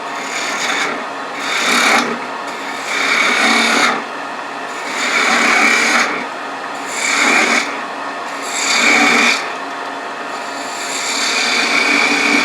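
A gouge shaping a spinning wooden spin-top ornament on a lathe, a steady raspy cutting hiss that swells and eases in repeated passes over a constant motor whir, close and loud with no talking.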